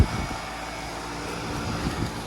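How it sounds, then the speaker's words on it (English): A Gibson (Nordyne) central air conditioner with a Bristol reciprocating compressor, from the early-to-mid 2000s, runs with a steady, close mechanical hum and a fan roar. The sound is continuous and heard alone. "This has a Bristol reciprocating compressor."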